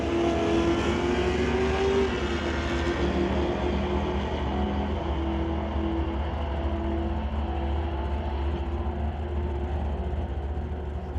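Drag racing cars launching at an NHRA Summit ET Series race, a Corvette leaving first, with a loud sustained engine roar and droning rev that holds steady throughout, heard from a distance across the track.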